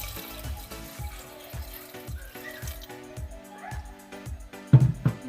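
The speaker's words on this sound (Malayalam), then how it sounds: "ഇതിനാവശ്യത്തിനുള്ള വെള്ളം ഒഴിച്ചു കൊടുക്കുക" Water pours into a pressure cooker holding green gram (cherupayar) while making cherupayar thoran, a brief splashing fill heard under steady rhythmic background music.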